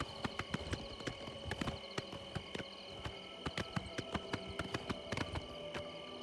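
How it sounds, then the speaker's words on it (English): Rapid, rhythmic horse hoofbeats clip-clop continuously at a trot in the video game Oblivion, crisp and close, with a synthetic, game-like quality and no talking. "Horse."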